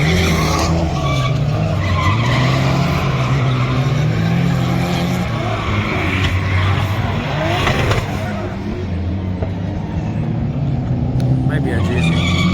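Drift cars at a season-opening drift event with a GZ or RB engine wailing near and loud, tires squealing and skidding continuously throughout, a crowd murmuring underneath.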